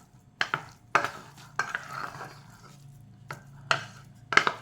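A spoon stirs cooked huggi, a rice and lentil dish, in a pot just after ghee is added: several close, distinct scraping and clinking strokes with quiet pauses between them, and no voices.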